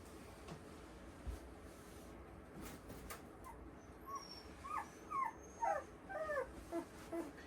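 A young bird dog puppy whimpers and yelps in a series of high, thin cries that grow more frequent toward the end, fairly close against a quiet background.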